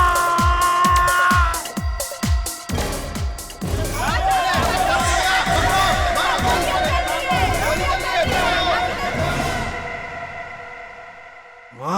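A dense crowd of people mills about in a busy public place, a loud continuous hubbub of chatter, shouts and cheering with thumping music beats underneath that fade out near the end.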